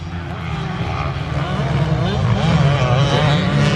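A pack of motocross bikes in an over-50s race roars away together after the start gate drops, their engines a loud, rising, wavering drone throughout, with commentary talk over the noise.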